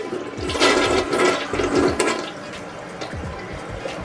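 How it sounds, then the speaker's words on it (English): A newly installed Glacier Bay toilet from Home Depot flushes weakly, its rushing, gurgling water swirling loudly at first and then settling into a steady trickle and refill hiss, with no voices. "the flush on this thing is terrible."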